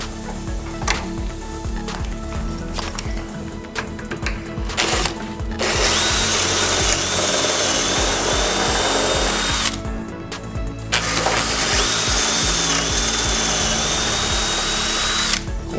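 A power drill bores dowel holes in a clamped wooden board through a drilling guide, whirring loudly and steadily in two long close passes after quieter handling noises at the start.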